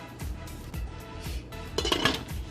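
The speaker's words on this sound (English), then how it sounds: "Then I'm gonna go ahead and cover the pot." A lid set onto a cooking pot of curried turkey necks, several close metallic knocks and clinks followed by a brighter rattling clatter as it settles.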